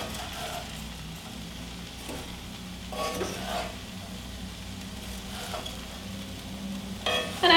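Red cabbage with onions and spices including star anise cooking in a pan gives a soft, steady sizzle, with occasional stirring scrapes and a utensil knock at the end.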